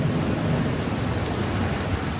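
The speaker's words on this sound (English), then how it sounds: "Rain, and a lot of it." Heavy rain pouring in Australia's desert Red Centre, a loud, dense, continuous roar of downpour with a deep rumbling undertone, steady throughout and without voices.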